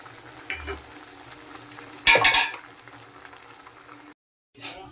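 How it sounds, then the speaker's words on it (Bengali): Bottle gourd greens sauté in a pan with a steady sizzle, broken by a loud clattering burst of stirring near the middle. A short silence follows, then the frying noise returns briefly. "এবার আমরা কষানো হচ্ছে একটু শাকটা"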